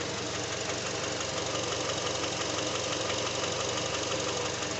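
A high-mileage Honda 2.4 liter dual overhead cam four-cylinder with all-wheel drive and 251,000 miles idles steadily at close range, a dense even hum with a faint ticking knock running through it, no voices over it.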